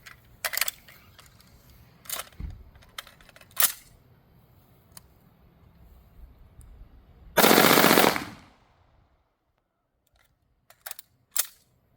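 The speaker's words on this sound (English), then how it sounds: "We're going to do some full auto with the magnetic buffer system" A rifle fitted with a magnetic buffer system fires a single loud full-auto burst of about a second, preceded and followed by sharp metallic clicks and clacks of handling, recorded close outdoors without talk.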